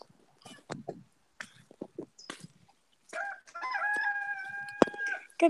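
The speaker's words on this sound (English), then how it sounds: "You can hear the roosters?" Roosters crow and chickens cluck nearby, first scattered short clucks, then a long crow with a sustained tonal call that rises and falls.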